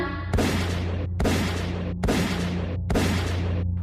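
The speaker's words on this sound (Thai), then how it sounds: "เสียงปืนคำรามลั่นสนั่นไปทั่วทั้งหุบและพื้นดงบริเวณนั้น" Four heavy, booming gunshot blasts in steady succession, each loud and sharp with a rumbling tail, no voices present.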